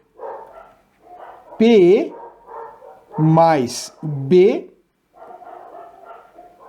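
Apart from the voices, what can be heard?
dogs barking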